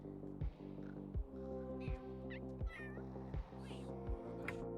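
A cat in The Sims 3 meows repeatedly, several short tonal calls spaced about a second apart over a steady low game background hum.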